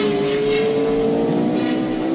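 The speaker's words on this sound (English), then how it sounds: "There's a car following us." A car engine hums and revs steadily close by as it follows behind, a continuous drone with a rising tone and no talk over it.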